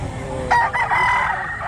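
Small-sized rooster at a breeder's farm in Lipa, Batangas, crowing once in a single drawn-out call at close range, with faint background noise and no talk.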